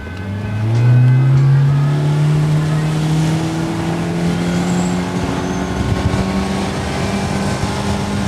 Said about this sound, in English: So it gets out of the hole extremely fast.